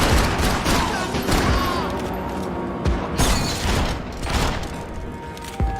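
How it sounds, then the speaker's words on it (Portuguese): Rapid bursts of gunfire from behind a wall in the shooter game Max Payne 3, loud and dense with heavy booms and cracks repeating throughout, along with a faint voice underneath. "Os caras estão atirando por trás da parede, eu vou atirar também"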